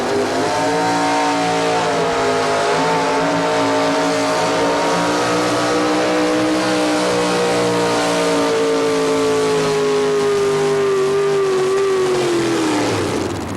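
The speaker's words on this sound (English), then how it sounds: "these 4x4s are digging with everything they've got" A 4x4 pulling truck at a 1987 Louisville truck pull revs hard and steadily for the whole stretch, its loud, rough engine drone slowly falling in pitch as it digs down the track, heard alone without talk.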